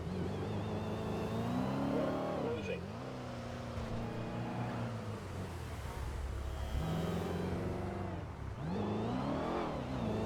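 Engine of a motorcycle passing in GTA 5, a steady close drone that rises and falls in pitch as it revs and shifts, with a voice talking over it throughout.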